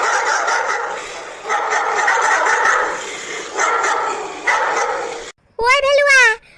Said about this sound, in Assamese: গোটেই কুকুৰগাল ইয়ালৈকে আহিলে নেকি ঐ চা এগাল হ'লচোন এইখিনিত